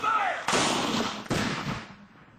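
Two booming Civil War cannon shots firing solid shot at steel drums set up as targets, each blast sharp and loud with a long rumbling decay, the second following about a second after the first, outdoors.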